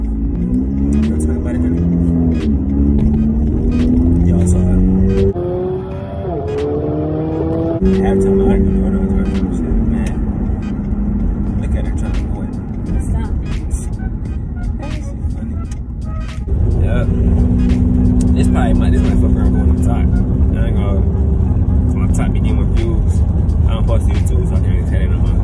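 Car driving on the road to a gas station, a loud continuous engine drone from inside the cabin that shifts pitch as it speeds up and slows, with people talking over it.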